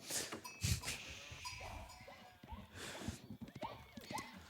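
Several sheep bleat at intervals over a busy Age of Empires game soundscape with faint hooves and other animal calls, moderately loud and fairly close.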